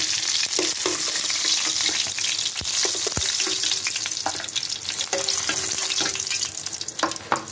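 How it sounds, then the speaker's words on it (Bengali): Kalbosh fish fries in hot oil in a pan, a loud, continuous close sizzle broken by sharp crackles and a few stirring clinks, with no talking. "মাছটা ভাজা হয়ে গেছে, আমি দেখুন ভালো করে ভেজে নিয়েছি মাছটা আমি এখন তুলে নেব।"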